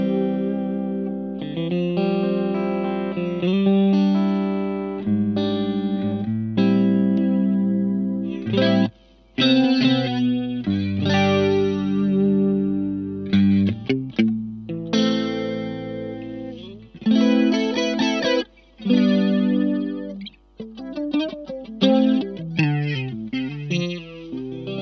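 Electric guitar, a Warmoth Strat through a PastFX Elastic Mattress flanger pedal, with a sweeping, swirling effect, playing chords and melodic phrases alone with no talk, clean and fairly loud.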